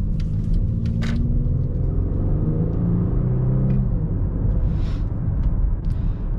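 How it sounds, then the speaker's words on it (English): Inside the cabin of a 2014 Mercedes-Benz E350 4MATIC sedan, a deep, steady engine and exhaust rumble builds as the car accelerates, with faint clicks and no talk. "they still provide that that exhaust note, that engine noise, and it really kind of translates into the cabin"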